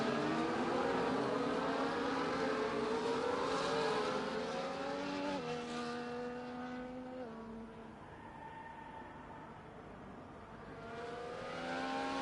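Race cars from an F1 racing video game on the Dutch GP circuit, loud sustained engine whine that climbs and shifts pitch through gear changes, then dips slightly quieter before rising again, with no talk.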